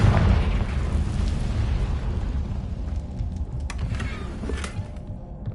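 A Confringo spell blast in the Hogwarts Legacy video game: a deep, rumbling explosion that rolls on as a sustained roar, with a few sharp crackles as it slowly fades.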